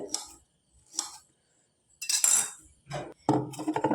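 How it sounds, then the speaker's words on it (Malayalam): A knife cuts ginger on a board while upma is being prepared: a few separate sharp chops with short pauses, then a denser run of cuts, close and clear. "ഇനി നമുക്ക് ഈ ഇഞ്ചികളൊന്ന് അരിഞ്ഞെടുക്കാം."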